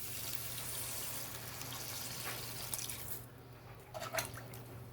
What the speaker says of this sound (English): now you're going to add 2 cups of hot water.